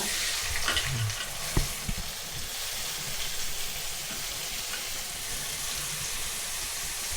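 Sliced onions fry in hot oil for an egg omelet masala, giving a steady, dense sizzle throughout with one sharp utensil knock early on and no voices.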